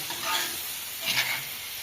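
Vegetable bhaji frying and being stirred in a home kitchen pan, two brief bursts of close hissing sizzle as the spatula moves, over a low steady background, no speech.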